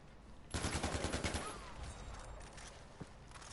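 An AK rifle fires in a rapid automatic burst in the video game Far Cry 4. The burst is loud and close, then fades into a lingering rumble, with a single sharp shot near the end.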